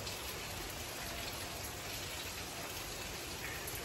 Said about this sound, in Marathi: बघा चांगला पाऊस चालू आहे.